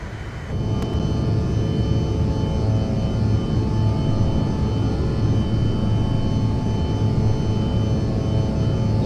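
Aerosoft CRJ jet engines with Boris Audio add-on in Microsoft Flight Simulator 2024, a loud steady whining roar with tonal hum after takeoff and flap retraction, swelling in the first second then holding constant.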